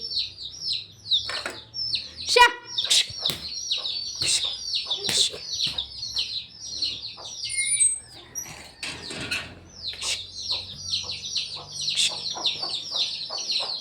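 A flock of chicks peeps and clucks nonstop, shrill calls overlapping, with occasional knocks and clatter close by.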